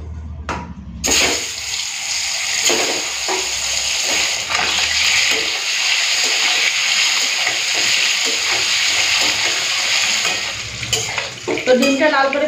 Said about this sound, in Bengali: তেলটা গরম হয়ে গেছে, ডিমটা ভেজে নিই।